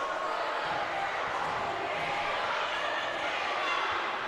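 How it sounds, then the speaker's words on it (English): A home crowd at a high school boys basketball game, Lane Tech vs. Orr, erupts after Caleb Hannah's poster dunk for the Spartans. A loud, dense, sustained roar of cheering fills the gym without a break. "Oh boy, the crowd goes wild."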